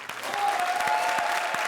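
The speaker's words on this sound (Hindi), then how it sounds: "जोरदार तालियां कृष्णा और सुदेश के लिए।" Studio audience at a comedy show clapping for Krushna and Sudesh, a short dense burst of applause, loud and steady, with a faint voice underneath.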